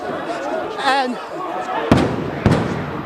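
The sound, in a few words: stun grenades exploding at riot outside parliament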